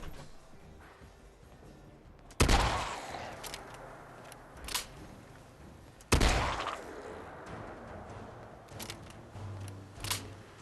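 Two loud modded pipe shotgun blasts in Fallout 4, a few seconds apart, each with a sharp attack and a decaying tail, followed by fainter game clatter and small impacts.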